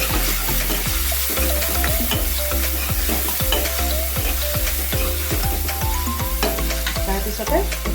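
Pork curry seasoned with salt and turmeric is stirred steadily in a pan, a constant loud sizzle under regular scraping strokes of the spoon roughly every half second, with no voices.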